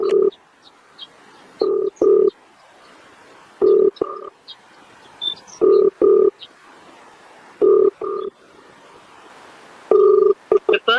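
A telephone call rings repeatedly while an MLA is being phoned, each ring a loud double burst with short pauses between, cycling steadily and alone without talk.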